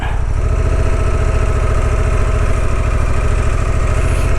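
A Honda Transalp 750 motorcycle idles close by, its engine holding a loud, even, low throb with no change in pace for the whole stretch.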